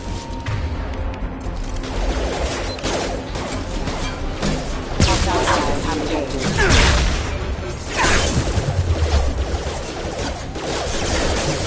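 Gunfire and crashing impacts in the sci-fi shooter Mass Effect 2, a dense, loud continuous barrage of shots and hits with voices calling out over the combat.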